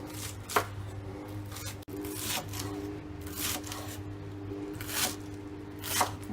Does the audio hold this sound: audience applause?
no